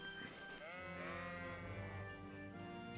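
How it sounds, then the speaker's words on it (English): A sheep bleats in Kingdom Come: Deliverance, one long, wavering, nasal call close by, with a low rural ambience beneath it and no talking. "Sheep."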